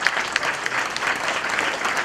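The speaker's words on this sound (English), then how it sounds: "Can we give them a round of applause" An audience applauds for guests being recognized, a steady dense patter of many hands clapping throughout, fairly close and even in loudness.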